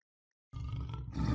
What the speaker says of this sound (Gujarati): સિંહે તેનું મોઢું ખોલ્યું અને ગર્જના કરી